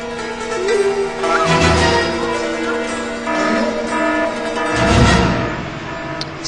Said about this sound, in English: It's Amber Alert time, because that is the sound of Jet Chan